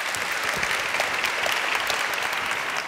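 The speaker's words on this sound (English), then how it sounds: "Could I please have a warm applause for David Kenning?" An audience at a keynote talk at a technology conference applauds, steady dense clapping throughout, loud and continuous with no speech on top.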